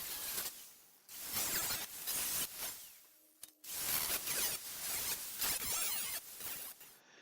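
18 gauge steel sheet is cut in a series of harsh, rasping strokes, close and loud, repeating in bursts of about half a second with short gaps between.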